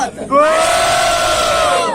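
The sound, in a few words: crowd cheering and shouting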